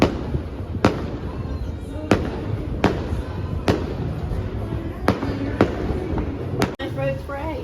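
Fireworks go off over the beach at New Year, with sharp bangs recurring roughly every second against a constant roar of crowd chatter and ambient noise, loud and fairly close.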